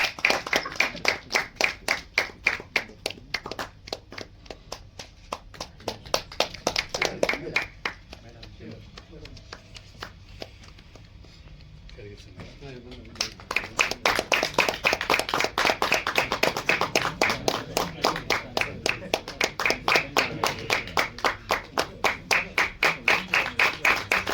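An audience at a music album release ceremony claps in steady rhythmic unison, loud and close, dropping to a softer stretch midway before resuming at full strength; a voice talks over the clapping.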